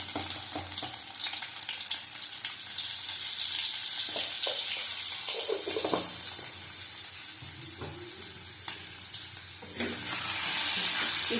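Boiled potatoes frying in oil in a home kitchen, a loud continuous sizzle that swells toward the end, with scattered scrapes and clatters from stirring.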